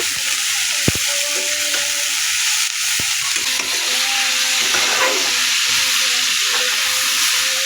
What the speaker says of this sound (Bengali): ভালো করে এটা নাড়াচাড়া করে মিশিয়ে নেব।